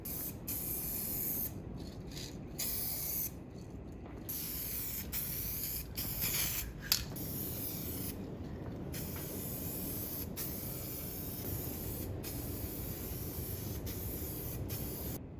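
A rattle can of spray paint coats a car engine bay in a close, loud hiss that runs in long bursts broken by brief pauses, with no talking.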